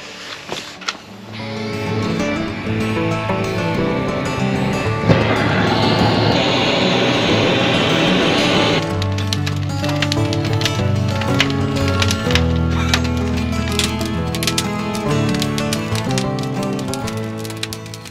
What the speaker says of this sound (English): This is the scariest fire I've started.